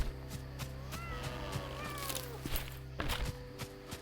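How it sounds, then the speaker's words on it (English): Cat meowing in the cozy management game Bear and Breakfast, a few soft rising-falling mews over light footstep thuds and ambient game music, fairly quiet and mid-distance. "I heard a cat."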